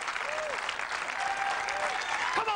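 A professional bowling crowd at the 2008 PBA ConstructionJobs.com Championship, cheering and clapping steadily after a strike, with a few whoops and shouts rising above the dense applause.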